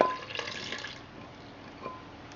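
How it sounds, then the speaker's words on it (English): Yeast mixed with water is poured into flour for spelt bread, giving a brief splashing, trickling liquid sound at the start that fades into soft kitchen noise. "pouring in the mixed yeast into the water, pouring it into the flour"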